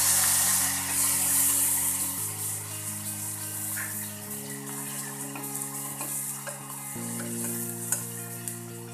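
Chopped tomato sizzles steadily in a hot tempering of turmeric and garlic paste for lauki chana dal, with a loud continuous frying hiss and occasional stirring clinks, no voices.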